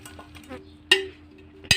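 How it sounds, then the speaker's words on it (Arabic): A metal spoon stirs a potato and meat dish in a tray, giving two sharp clinks against the pan amid soft scraping, close and fairly quiet. "خليني اقلب بالمعلقه وخلاص"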